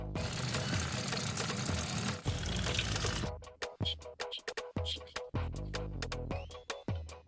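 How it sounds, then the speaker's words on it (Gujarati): Two motor pumps on a farm fogger kit draw water with a dense, steady whooshing rush for about three seconds, then the flow turns choppy and sputtering in uneven bursts as air works out of the line. "આપણે બંને મોટરની અંદરથી પાણી ચાલુ થઈ ગયું છે ખેંચવાનું કમ્પ્લીટ."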